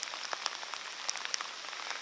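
Rain falls on a lake on a wet summer day, a dense, even hiss of drops and light splashes pattering steadily across the water, with no voices.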